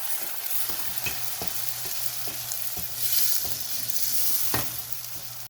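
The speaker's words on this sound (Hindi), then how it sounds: "अच्छा ये देखें, मसाला माशाल्लाह अच्छा सा भुन गया" Tomato and onion masala sizzles steadily in a pan while a spoon stirs it, with regular scraping taps against the cookware over the continuous frying hiss.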